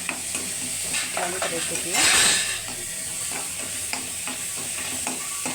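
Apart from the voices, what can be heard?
onion frying in pan for beans palya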